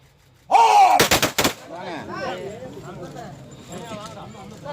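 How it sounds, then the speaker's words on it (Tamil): At a military funeral with full state honours, a rifle salute fires three sharp close volleys in quick succession, followed by voices and crowd murmur continuing underneath. "துப்பாக்கி குண்டுகள் முழங்க முழு அரசு மரியாதையுடன்"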